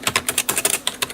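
Quick, crisp keystrokes on an HP SK2506 computer keyboard, about a dozen clicks in an uneven rapid rhythm, close and clear with no voices.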